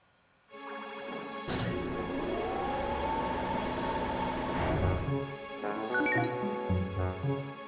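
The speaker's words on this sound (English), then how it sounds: "Ixion, a time-traveling locomotive." A time-traveling locomotive in the video game Dark Cloud 2 roars into a sustained loud rumble with a rising tonal whine, then fades to clanking, mechanical sounds.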